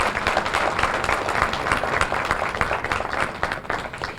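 Audience at a community luncheon applauds young people and their families, a dense, steady round of clapping from many hands throughout.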